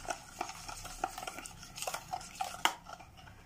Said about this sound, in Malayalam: കുറച്ച് ഒഴിച്ച് പാലായി കൂടുതൽ മിക്സാക്കി കൊടുക്കാം